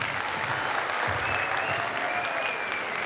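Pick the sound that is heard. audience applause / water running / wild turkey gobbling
audience applause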